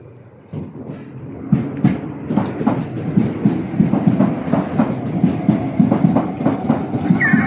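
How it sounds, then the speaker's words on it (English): A Southeastern class 395 train departing Dover Priory station, with steady rhythmic clickety-clack of wheels over rail joints, growing louder and faster as it pulls away nearby. "Southeastern class 395 service departing Dover Priory for St Pancras International from Ramsgate"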